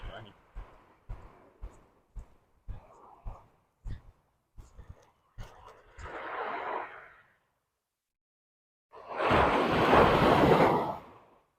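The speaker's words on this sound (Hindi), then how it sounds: "तो ये छोटी सी लहरें हैं समंदर के पानी की, और इसका इतना शोर है" Small sea waves wash in at Patong beach in Phuket, a brief hiss of surf followed by a louder rushing wave after a pause, heard close with someone talking over the start.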